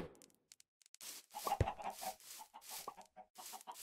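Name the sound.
chickens clucking in Minecraft VR video game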